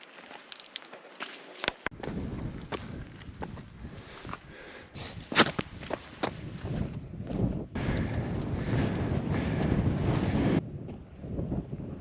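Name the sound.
wind blowing on mountain summit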